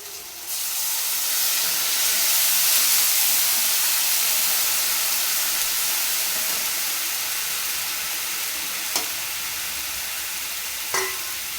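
Cumin and ginger paste hit a pan of lightly fried potatoes and sizzle loudly, a bright, steady hiss that rises sharply at the start and then slowly eases, with a couple of brief clinks near the end.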